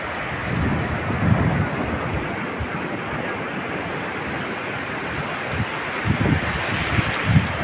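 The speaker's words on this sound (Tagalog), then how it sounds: "Lumalakas na yung alon." Sea waves at Lingayen Beach wash in a steady, broad rush of surf with gusty wind buffeting the microphone, with a few heavier swells breaking nearer toward the end.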